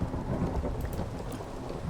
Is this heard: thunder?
yes